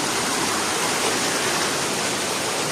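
A waterfall at Complexo Paraíso in Delfinópolis, Brazil, roars as a loud, steady, broadband rush of falling water close by, with no talking.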